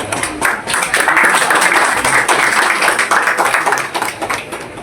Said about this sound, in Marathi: सगळ्यांनी टाळ्या वाजवून स्वागत करावं।